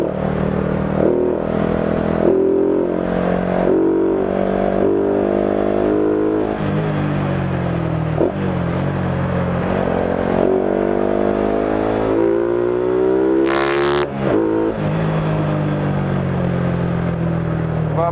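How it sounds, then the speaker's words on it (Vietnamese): A Honda Future LED motorcycle exhaust on a test ride in Saigon: a steady, loud engine drone rising and falling in pitch through acceleration and gear shifts, with continuous wind noise and no talking. "Từ cái âm thanh, từ cái tiếng bô và từ cái cảm giác mà đang tạo ra."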